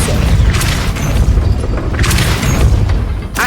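A Depulso spell fires in Hogwarts Legacy as a loud, deep magical boom, with two or three heavy rumbling bursts and crackling swells over a dense low roar.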